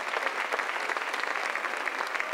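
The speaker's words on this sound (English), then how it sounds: "I just would like us all to give a big round of applause for all of her achievements" A crowd at a 2010 Worlds VIP ceremony gives a round of applause for an honoree, with quick, dense clapping that stays steady and fairly quiet throughout.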